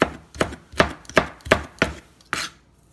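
A knife chops tomato into small pieces on a board, tomato meant to go into meatballs: about eight sharp, close chops in an uneven rhythm, each a crisp knock, with no voices.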